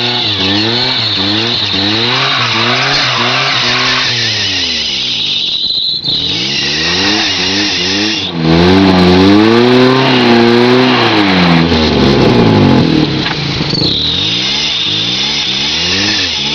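A Geo Prizm's small engine revs hard while stuck in mud, rising and falling in repeated loud surges with wheel spin, louder near the middle, no talk over it.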